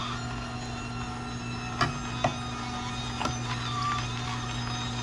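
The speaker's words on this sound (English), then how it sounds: "So here we have the juicer doing its thing." An Omega 8006 juicer running, a steady low mechanical hum with a constant drone, broken by a few brief clicks and knocks as produce is pushed through.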